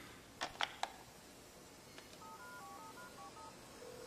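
A telephone keypad sounds three sharp button presses followed by a quick run of DTMF dialing tones, with the start of a ring tone at the end. The tones are faint and even against a hushed background.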